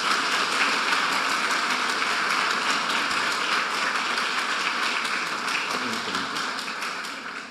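Church congregation at a worship service applauding to welcome minister Tiago to the front; sustained, even clapping from many hands throughout, easing slightly toward the end, with faint voices beneath.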